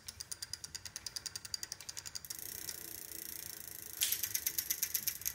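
A Gates Carbon Drive bicycle gear hub ratchets in second gear with fast, even clicking close by, then shifts to a denser, quicker buzz and grows louder near the end, with no talking.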